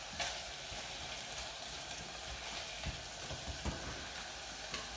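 Macaroni pasta sizzling in a pan with wine, a soft even crackle and hiss with faint stirring clicks, steady and fairly quiet with no voices.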